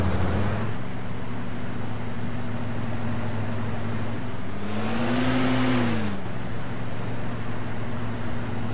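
A car engine in the video game DayZ Epoch drones steadily and loud throughout, rising briefly in pitch as it revs, then settling back, with constant road rumble and no talk.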